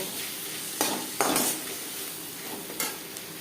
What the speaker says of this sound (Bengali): পেঁয়াজের সাথে লবণ হলুদ ও মশলা বেশ ভালো করে মিশিয়ে দেবো